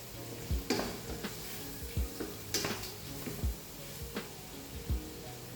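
Onions and thyme frying in a pan for Liège-style meatballs, a soft sizzle under repeated spoon knocks and scrapes against the pan at an irregular rhythm, nearby and fairly quiet, with no speech.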